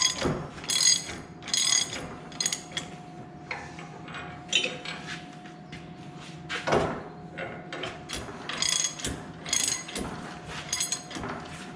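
A ratchet clicks in short bursts while an old hub and shaft are taken off farm equipment, quick repeated ratcheting runs separated by brief pauses and a few metallic knocks, close and moderately loud.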